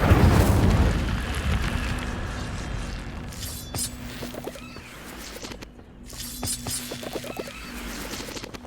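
An Incendio fire spell cast in the video game Hogwarts Legacy bursts out loudly at first, followed by fainter crackles, clicks and soft game sounds over several seconds, with no talking.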